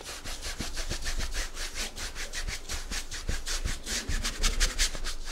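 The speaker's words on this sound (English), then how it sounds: "I'm really scrubbing it very hard." A paintbrush scrubs Prussian blue oil paint hard onto a canvas in quick, rhythmic, rasping strokes, several per second, close and steady without talking.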